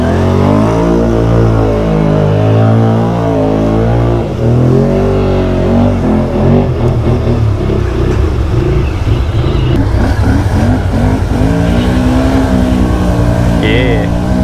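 Can-Am 650 XMR quad engine revving hard in deep mud on Terache Aztex tires, a close, loud, continuous roar that rises and falls with throttle, under occasional speech.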